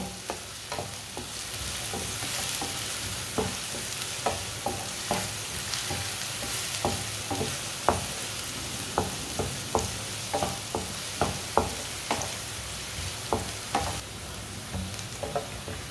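Finely chopped onion frying in a pan, a continuous close sizzle punctuated by regular scraping taps of a stirring spoon roughly every second, with no voices.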